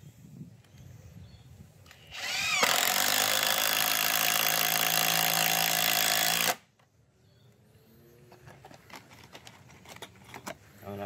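A Makita impact driver drives a roofing screw in one loud sustained burst of rapid hammering rattle lasting about four seconds, close by, then cuts off to quieter handling and clicks.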